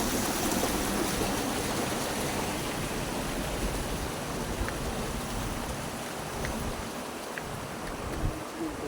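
Steady rushing and babbling of flowing river water, a constant close wash with a few faint clicks, no one speaking.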